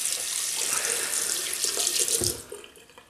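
A Fine Superlite slant double-edge safety razor held under a running tap, a loud close rush of water that cuts off near the end.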